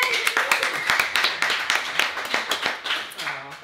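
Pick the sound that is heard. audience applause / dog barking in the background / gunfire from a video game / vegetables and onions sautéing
audience applause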